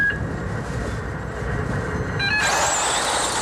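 1/10th scale 2wd electric RC cars launch off the start at a world championship race in Basildon, UK: a steady mechanical whine and rumble, then a bright high-pitched surge as the pack gets away.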